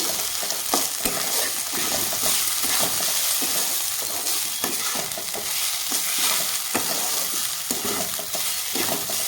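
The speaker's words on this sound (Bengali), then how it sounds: "চালটাকে আমি ভেজে নেব সুন্দর করে একটু হালকা করে ভেজে নেব" Rice lightly frying and being stirred in a pan, a steady loud sizzle with frequent scraping stir strokes throughout, no talking.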